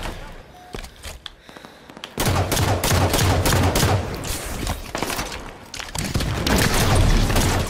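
Beam rifle shots crack out in the Halo 5: Guardians video game. After a quiet opening, loud sharp reports fire in quick succession over a heavy low rumble, with a short lull before another burst.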